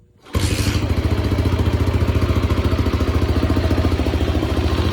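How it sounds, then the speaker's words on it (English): A 1985 Kawasaki KLR 250 dirt bike is kickstarted and catches at once, its single-cylinder engine settling straight into a loud, steady, rapid thumping idle close by. "we're gonna try to kickstart this thing in one kick"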